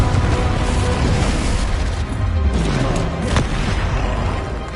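A loud, dense blast from the Confringo fire spell in the Hogwarts Legacy video game on PS4, a close booming explosion with rumbling low end and scattered crackle, lasting a few seconds without speech.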